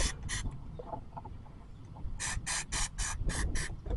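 Starter fluid sprayed from an aerosol can into a riding mower carburetor, heard as a couple of short hissing bursts, then a quieter gap with small mechanical noises, then a quick series of six or seven sharp spray puffs.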